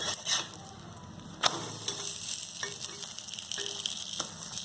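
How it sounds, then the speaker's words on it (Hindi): An egg paratha frying on a hot pan, pressed down with a spoon, gives a steady close sizzle broken by a few sharp scraping taps of the spoon against the pan. "इस तरह से आप इसे चम्मच से इस तरह से यूं दबाते हुए आप इसे सेकते जाएं"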